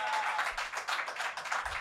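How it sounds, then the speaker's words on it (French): A brief burst of crowd applause, steady dense clapping at moderate distance, continuing throughout without voices standing out. "On applaudit!"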